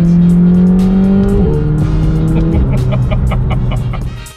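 A McLaren 720S supercar accelerates hard, its engine note climbing then dropping sharply at quick dual-clutch gear shifts, loud and close, with the roar easing off at the end.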